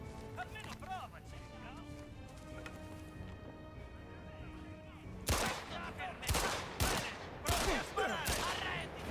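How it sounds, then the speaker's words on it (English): Gunfire in an Indiana Jones video game cracks out in several sharp, loud bursts aimed at the player, breaking in partway through after a stretch of quieter game ambience. "Oh my god, who's shooting me?"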